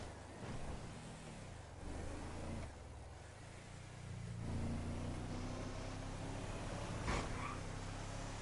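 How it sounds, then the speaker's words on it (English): A car in a video game drives along with a low, steady engine hum at quiet level, its drone shifting and rising slightly partway through before settling, with no talk heard. "Stopping the car in the median here"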